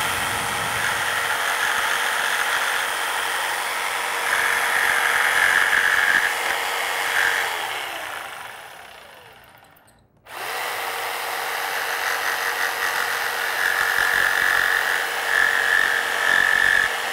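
A jigsaw cuts a profile into wood molding for a coped inside corner. Its loud, high motor whine runs steadily, drops away briefly partway through, then starts again and runs on with no talking.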